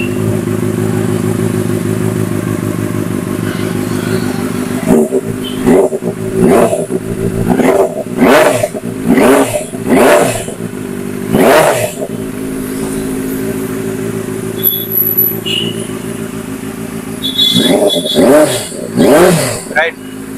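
A Benelli 600i ABS motorcycle idles steadily at a superbike dealership, then is blipped in a series of sharp revs, a cluster mid-way and another near the end, with voices around it.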